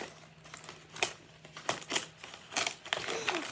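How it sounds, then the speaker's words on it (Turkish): A plastic Ziraat Bankası carrier bag being opened by hand, giving a series of close, irregular crinkling and rustling bursts with quiet gaps between them. "Bu arada şu Ziraat Bankası poşetini açıyorum."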